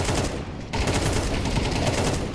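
Dense gunfire from a Counter-Strike match fills the stretch, a steady rapid crackle of shots with no pause and no talking over it.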